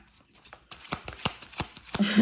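A deck of cards is shuffled and riffled in a run of crisp, close slapping bursts that grow louder toward the end, with no talk.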